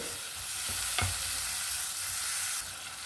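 Chopped medium tomatoes hit a pan of frying masala for peas pulao, giving a soft steady sizzle with a brief stirring scrape, close and moderately quiet, then the frying hiss drops off near the end.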